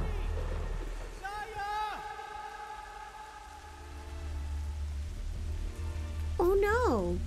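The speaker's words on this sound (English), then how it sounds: "the rain is so satisfying. The sounds of the rain, I love it." Steady rain falls in the forest of the video game Kena: Bridge of Spirits, a soft continuous hiss beneath short tonal voice calls that rise and fall.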